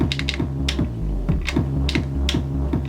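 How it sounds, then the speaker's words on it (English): Vinyl break effect on a Pioneer RMX500 over a Syntakt electronic beat, a steady pounding loop with crisp hits that briefly drops to a sustained low drone before the rhythm returns, loud throughout. "and then vinyl break."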